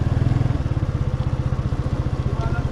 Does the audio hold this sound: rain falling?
no